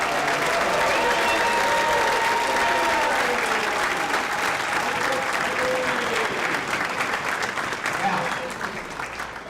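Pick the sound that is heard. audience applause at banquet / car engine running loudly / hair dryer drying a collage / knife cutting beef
audience applause at banquet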